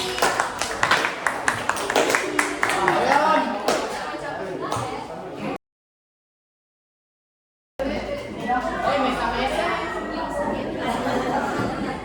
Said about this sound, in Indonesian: tepuk tangan buat Trifty